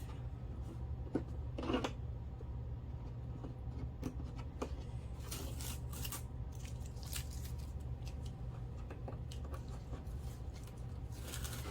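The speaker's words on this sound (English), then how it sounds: "Let's take the tape off." Masking tape is peeled off a watercolour painting on paper, making short raspy tearing bursts over a steady low hum, with a quick strip near the start and a longer run of crackly pulls midway.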